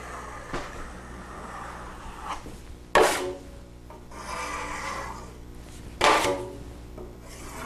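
A drywall knife scrapes the corner bead clean in a few quiet, rasping strokes, with two sharper, louder scrapes standing out; no talk.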